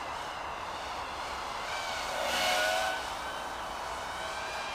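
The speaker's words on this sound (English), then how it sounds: "that's from those low-pitched props." Freestyle FPV drone, a GEPRC KHX5 fitted with low-pitched propellers, gives a steady high whine with a buzzing propeller hum that swells louder around the middle, then eases back to a constant drone.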